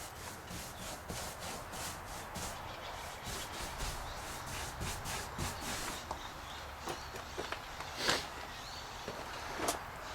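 A paint brush is drawn back and forth, applying antique white house paint to trim on an old house, giving steady close scratchy rubbing strokes with a few sharper taps near the end.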